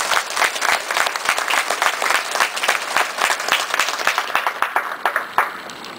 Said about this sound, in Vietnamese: Xin quý độ cho một tràng pháo tay.